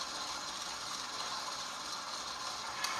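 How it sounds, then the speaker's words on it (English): A Breville mixer runs on low, mixing pizza dough with a steady, faint mechanical whir and light rattle. There is no talk, and a brief tick comes near the end. "we will start this on low, and we will mix it until there's no flour that remains."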